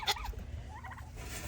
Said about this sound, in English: My turkeys eat up in there